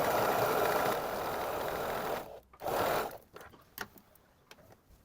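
A sewing machine stitching fabric around a curve for a blouse, a loud close whirring run that stops, briefly restarts, then gives way to scattered small mechanical clicks as the needle and presser foot are adjusted.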